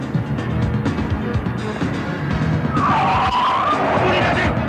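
A driverless car lurches off with a loud tire skid and squeal rising midway, engine roar underneath, amid an action-film chase scene with shouting voices nearby.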